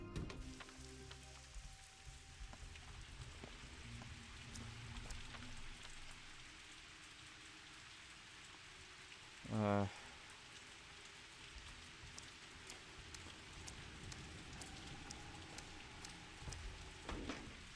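Steady rain from the video game Pathologic 2 patters softly throughout, with a brief sharp chime-like tone rising in the middle against the even hiss.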